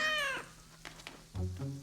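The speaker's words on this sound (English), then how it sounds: "Caillou loved his new kitten very much" A cartoon kitten gives a high meow, then quieter soft sounds follow, and a second, lower meow comes near the end, close and without talk.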